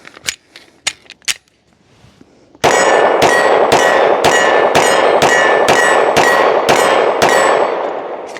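Sharp metallic clanks ring out from a Ruger RXM pistol firing down an extended magazine until the slide locks back empty; a few spaced impacts come first, then a rapid, evenly paced string of loud, close clangs.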